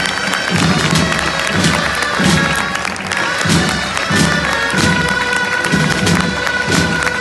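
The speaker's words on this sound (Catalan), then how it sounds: "Un fort aplaudiment" Loud, continuous applause and crowd noise at an outdoor muixeranga human-tower performance in Castelló, with rhythmic low thumps pulsing through the steady roar.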